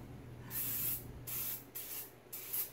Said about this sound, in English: take a springform pan or any pie pan you have, spray it down